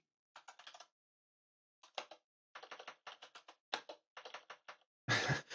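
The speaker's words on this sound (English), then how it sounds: "We're going to try and type this again." Typing on a computer keyboard in the Emacs editor, close and clear: short bursts of rapid key clicks separated by brief pauses, ending in a louder clatter.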